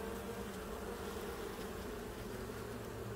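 Honeybees buzz steadily around an open hive during a July inspection, a dense, constant hum close by with no pauses and no voices.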